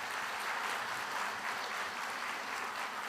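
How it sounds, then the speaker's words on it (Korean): A church camp congregation applauds in a steady, dense wash of clapping that stays even and fairly loud from start to finish, with no voices over it. "여러분 다시 한번 박수 부탁드립니다."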